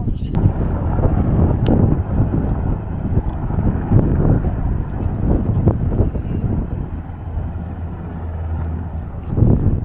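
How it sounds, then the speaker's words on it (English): A helicopter's low, steady rumble mixes with strong wind buffeting the microphone, holding loud and continuous throughout, with faint voices underneath. "there's a helicopter coming in"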